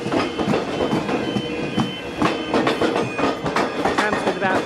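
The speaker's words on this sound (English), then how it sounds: "you see the trains go very, very slow, then proceed through the signal through the crossing" A train rolls very slowly across a tram square crossing on the Frankston line, wheels clicking steadily over the rail joints close by, with faint talk in the background.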